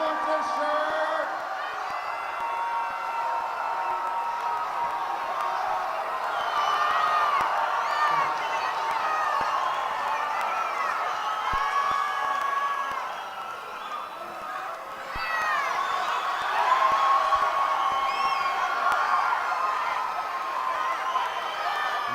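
A crowd at an army fight night event at Fort Hood cheers, whoops and shouts for free T-shirts, a loud continuous roar of many voices that dips briefly, then swells again.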